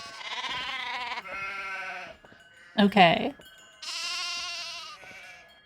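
Sheep bleat in a Nancy Drew video game, several drawn-out bleats in a row, clear and moderately loud, with a brief burst of a person's voice between them.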